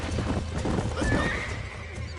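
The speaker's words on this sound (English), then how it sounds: "These are fine horses." Horses in the Red Dead Redemption game whinny and neigh over steady clip-clopping hooves, a busy, continuous mix of animal calls and trotting close by.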